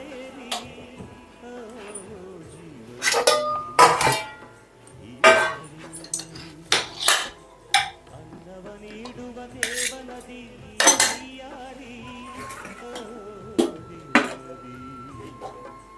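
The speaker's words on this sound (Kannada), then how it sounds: "ನಾನಿಲ್ಲಿ ರೈಸ್ ಜೊತೆ ಸಾಂಬಾರನ್ನ ಸರ್ವ್ ಮಾಡ್ತಾಯಿದ್ದೀನಿ" Metal utensils clink and clatter against pots and plates while sambar is served with rice, a run of sharp irregular knocks and scrapes close by over a quiet background, with no voices.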